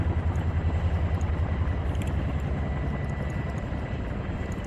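Military helicopters, a Chinook and a Black Hawk, flying in a video game, a steady loud rotor and engine drone with a low throbbing pulse that runs through the whole stretch without speech.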